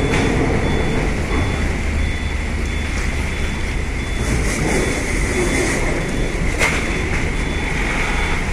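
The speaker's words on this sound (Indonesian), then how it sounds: "mobil sampah baru keluar ngambil sampah di dalam kapal" A garbage truck reverses inside a ferry's vehicle deck at Merak, its steady repeating reverse beeps sounding over a loud diesel engine rumble and echoing hold noise, with no one talking.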